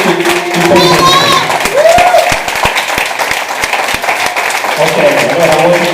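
A crowd at a song contest event applauds and cheers loudly and continuously, with scattered voices and a whoop rising above the clapping.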